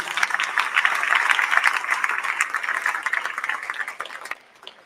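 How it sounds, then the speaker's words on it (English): Applause for parents at a high school signing day, a crowd clapping steadily and fairly close, tapering off near the end before stopping abruptly. "Let's give a big round of applause to the parents."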